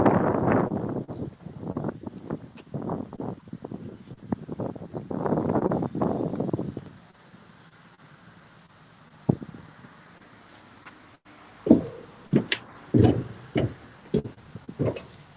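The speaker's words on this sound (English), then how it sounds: "it was a little windy out" Gusty wind buffets the microphone in low rumbling bursts for the first several seconds outside an assisted living home entrance, then fades, leaving quiet with a few sharp knocks and thumps.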